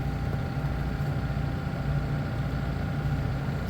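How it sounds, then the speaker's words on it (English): A tractor engine idles on a cold Alaska farm, a steady, unbroken low rumbling drone with an even hum throughout, close and continuous with no other sounds. "Tractor is running."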